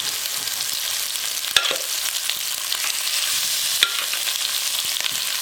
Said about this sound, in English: Okay, my oil is hot and I'm just going to start adding my pork because I just want it to fry up a little bit.